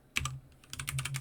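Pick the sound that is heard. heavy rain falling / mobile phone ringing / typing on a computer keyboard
typing on a computer keyboard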